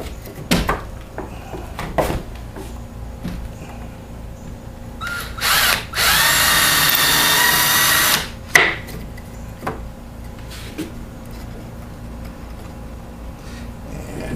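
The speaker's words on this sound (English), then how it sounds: "First, I'm going to drill a couple holes in it." A power drill whines through cedar wood in one sustained burst of a couple of seconds, set among scattered clicks and knocks from handling.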